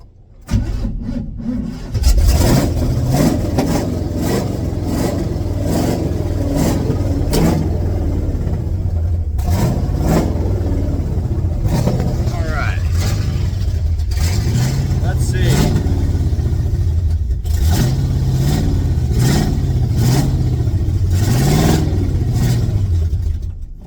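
A 1982 Chevrolet C10 pickup engine cranks and catches, then runs and revs in repeated rising surges, loud and close, with people talking over it throughout.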